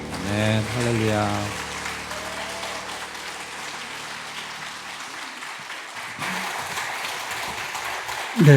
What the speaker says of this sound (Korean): 들어가실 때까지 한 번 더 박수 부탁합니다.